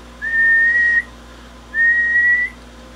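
Two sustained whistled notes into a radio microphone, each about a second long, separated by a short pause, sounding thin and slightly electronic over a faint steady hum, through a D+A MDX-200 amplifier.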